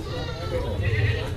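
A meat goat bleats nearby in a drawn-out, wavering cry at a livestock market in Kotabaru, with other bleating and voices mixed in.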